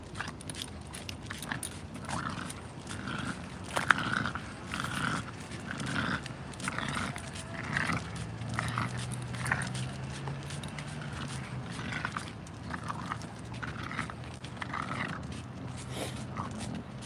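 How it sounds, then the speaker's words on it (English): Two dogs out on a walk pant, sniff and jostle close by, with scattered bursts of panting, brief mouthing sounds and a few low growls over steady outdoor background noise. "I'm right here with Shadow and Swisher on a dog walk."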